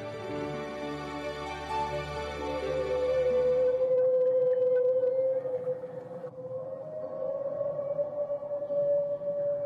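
Humpback whale song: long, tonal moaning calls that waver and glide in pitch, filling the clip continuously, with a shift to a steadier, higher sustained tone partway through.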